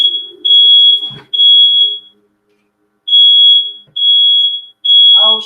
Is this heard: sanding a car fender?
no